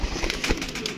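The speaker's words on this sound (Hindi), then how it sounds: "ये जोड़ों वाली कबूतरी है" A pigeon hen from a paired breeding set, held up and shown at close range, gives a brief, soft cooing murmur, heard over a dense background of other pigeons and hubbub.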